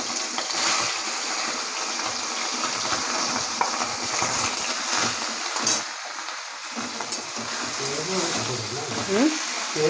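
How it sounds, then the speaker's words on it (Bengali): Small mourola fish fry in a pan with a steady, loud sizzle and crackle, broken by occasional stirring scrapes, while a voice talks over it. "মাছ ভাজা হচ্ছে"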